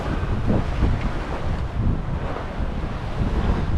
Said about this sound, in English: Let's hope we can keep this breeze going all day